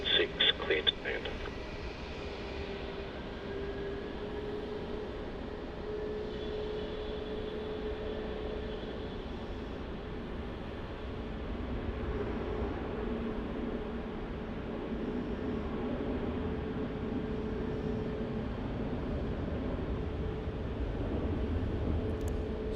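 An Airbus A320 airliner landing on runway 16 at Melbourne Airport makes a steady broadband roar that swells slightly toward the end. It sits under radio chatter and a voice talking, with a few clicks at the start.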